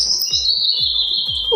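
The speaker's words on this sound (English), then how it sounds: "Birds make a sound called chirp." Birds chirp in a steady, high-pitched stream of overlapping calls and tweets, close and fairly loud, with no voices.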